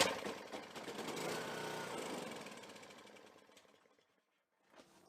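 A salvaged Honda snowblower engine cranks and catches, sputtering and knocking briefly before dying away into silence, then a faint short clunk follows near the end.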